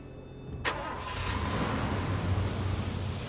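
A car engine cranks and catches in the Far Cry 2 video game, with a sharp start burst followed by a steady, rumbling idle that continues close and moderately loud to the end.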